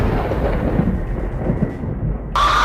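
Thunder from a storm that is starting to form rumbles low and loud and rolls on steadily, then a sharper, brighter crack breaks in near the end.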